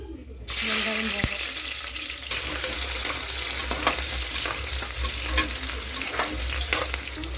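Onion tipped into hot oil hits with a sudden loud hiss, then settles into a continuous bubbling sizzle with occasional stirring scrapes.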